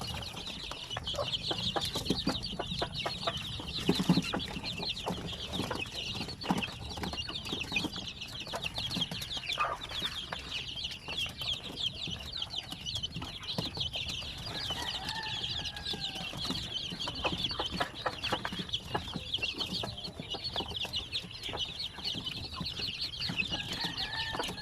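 Hens and newly hatched chicks cluck and peep inside a coop where a mother hen broods, producing continuous soft clucking and high chick cheeping, fairly faint and close.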